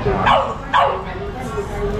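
Exotic bully dog at a pet market giving two sharp yips or barks close by, with people talking around it.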